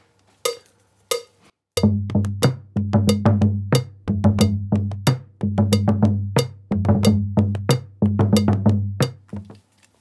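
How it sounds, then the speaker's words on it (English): African drums recorded as a multitrack take, sharp hand strikes in a steady repeating rhythm of clustered hits with short gaps between phrases, close and clear with no voices. "So we've done one take now of the African drums"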